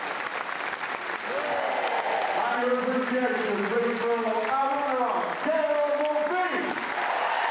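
A tennis crowd applauds the runner-up Monfils after the Eastbourne 2017 final, with sustained clapping throughout under someone speaking over a public address system.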